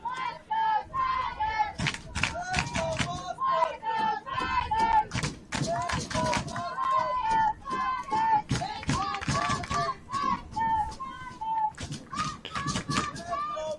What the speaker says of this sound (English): Home crowd getting into it a little bit.